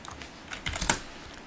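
Ctrl+D is pressed on a computer keyboard, giving a short cluster of close, light key clicks, with the firmest tap near the end.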